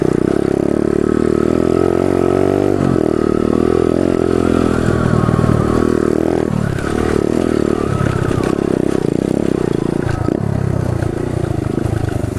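A pit bike rides across a dirt field, its small engine loud and close with a continuous buzzing drone that rises and falls in pitch as the rider works the throttle, along with some rattling and scraping.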